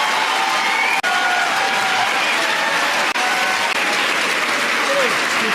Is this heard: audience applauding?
yes